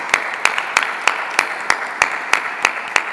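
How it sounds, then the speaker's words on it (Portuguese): Church congregation claps in unison at Mass, about ten sharp, evenly spaced beats in a steady rhythm, close and moderately loud, with no voices over it. "Vamos aplaudir a palavra de Deus com muita alegria, com muita força"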